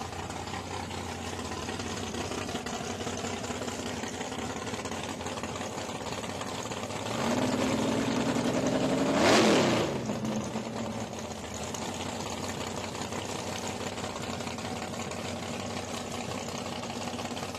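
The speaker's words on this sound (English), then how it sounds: "The Black Betty, 582 cubic inches of nitrous is going to be coming to life there." The Black Betty drag car's 582 cubic inch nitrous engine idles with a steady, rough drone, then swells briefly into a louder rev midway before settling back to a loud idle.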